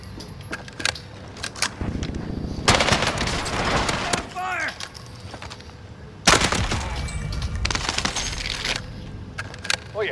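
Automatic gunfire in Call of Duty Modern Warfare comes in loud, dense bursts over about ten seconds, with rattling clicks and mechanical noises between volleys and a voice speaking in the mix.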